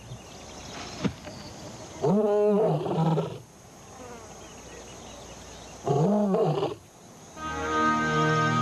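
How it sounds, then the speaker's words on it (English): An eleven-year-old lioness roars twice in the wild, answering a male, each roar a loud, deep, drawn-out bellow about a second long separated by quiet, with insects and faint ambient sound between. "A lioness answers."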